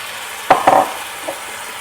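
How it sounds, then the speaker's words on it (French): Pork pieces dropped back into a cast-iron pot over lowered heat, giving two quick close sizzling bursts around the middle, then a faint brief crackle as the frying settles. "On baisse légèrement le feu et on vient remettre la viande dans notre cocotte."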